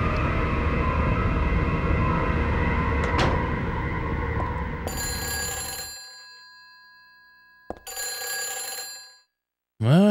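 Telephone ringing in the Silent Hill 3 video game, a bright electronic ring that bursts in over a dense droning ambient backdrop, then rings again after a short break before cutting off.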